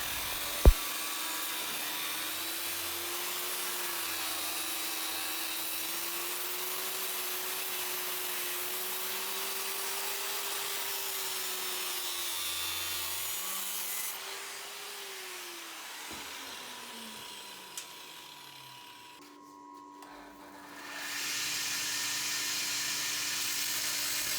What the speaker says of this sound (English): Here you can see me deburring the whole tongs, including the jaws and the end of the handles on my 2x72 belt sander.